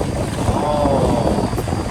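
An outboard boat engine drones steadily and loudly as the boat runs along a river, with wind buffeting the microphone throughout.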